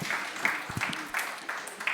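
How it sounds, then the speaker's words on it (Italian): An audience claps for cheesemaker Michele Cherchi at a Sardinian cheese workshop, a moderate, continuous patter of hands heard close by with a voice talking over it. "a cui fare un grandissimo applauso"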